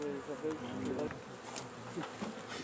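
Colombian honeybees swarm at an open hive during organic beekeeping, their dense, continuous buzzing close and loud, with scattered louder passes as single bees fly near.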